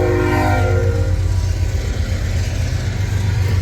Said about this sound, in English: Got a train going by here.